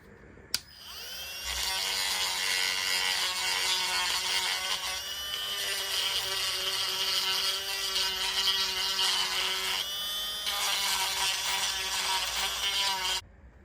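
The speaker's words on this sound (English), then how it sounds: "I'm just trying to drill instead" A high-pitched cordless electric drill fitted with a grinding stone whines steadily with a grinding buzz while grinding scooter rollers, running continuously for over ten seconds with a brief dip in the middle, then cutting off abruptly.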